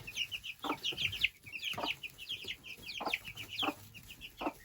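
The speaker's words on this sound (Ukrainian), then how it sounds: "Це курчатка шовкової фрізлі." Silkie frizzle chicks peep in quick high chirps while a hen clucks in low, repeated bursts nearby, the chatter continuous and close with no talking.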